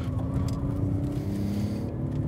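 Volkswagen Jetta with factory tuning and heavy understeer, driven on an autocross course; a steady, loud engine drone with a low rumble holds throughout with no talk.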